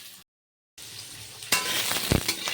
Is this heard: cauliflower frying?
yes